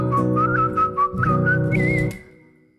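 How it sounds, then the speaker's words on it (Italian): A person whistles a lively melodic tune, clear and close, a run of quick bright notes that trails off at the end, alone without talk. "ci hanno detto che lei sa fischiare molto bene, ma come fischia?"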